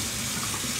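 Hot water runs steadily from a bathroom tap into a sink, a continuous close hiss and splash with no breaks and no voices, ahead of shaving with a titanium safety razor.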